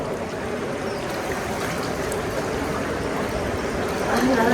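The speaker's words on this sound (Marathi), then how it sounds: "पाणी आहे आणि डायरेक्ट खाली वाहत वाहत जात आहे" Water rushes and roars steadily nearby as it pours down at a dam, a dense continuous flow that swells slightly louder near the end.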